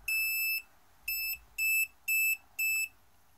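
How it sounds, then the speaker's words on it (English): A Raspberry Pi buzzer sounds a tweet notification sequence: five sharp, loud electronic beeps, a long first tone then four shorter ones in a steady rhythm, alone without talk. "it hit the beeper sequence and sent it to the buzzer"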